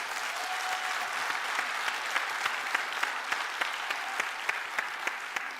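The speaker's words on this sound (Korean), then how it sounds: "두 분께 박수 한번 부탁드리겠습니다" An audience at a Bareun Party presidential primary debate in the Chungcheong region applauds two candidates, steady moderate clapping with distinct individual claps standing out, heard from a little distance.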